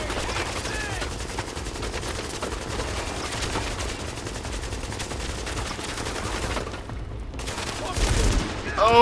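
Enemy gunfire in the shooter game The Division: dense, continuous automatic fire rattling for several seconds, briefly dropping out before resuming louder, with faint voice underneath.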